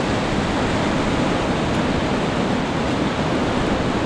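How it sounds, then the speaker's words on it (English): Ocean waves roll onto the shore at Aireys Inlet on the Great Ocean Road, a loud, steady broadband surf roar that holds constant throughout with no voices. "Got some waves coming in now, which is great."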